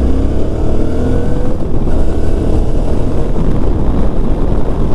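Suzuki V-Strom 650 motorcycle riding on the road, a steady loud engine drone with wind rush throughout, close and continuous, no talk.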